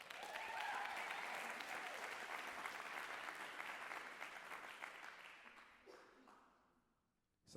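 A crowd at a spoken-word and poetry evening claps for poet Caroline, loud and dense at first, then thinning and tapering off into near silence with a brief noise at the very end.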